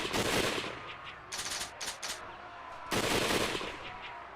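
Rifle volleys crackle from an in-game battle in Hakuoki: Edo Blossoms, loud dense bursts of gunfire at the start and end with shorter clustered shots between.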